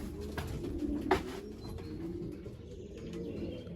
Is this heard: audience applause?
no